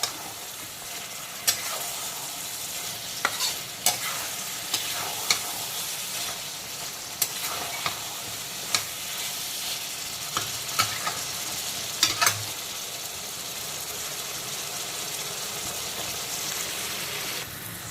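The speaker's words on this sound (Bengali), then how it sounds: "তো এখন বেশ কিছুক্ষণ সময় নিয়ে ঝিঙেগুলোকে কষিয়ে নিয়েছি।" Ridge gourd stir-fried in a wok over full flame gives a soft, steady sizzle broken by sharp spatula scrapes and clicks at irregular intervals. Fairly quiet overall, with no talking.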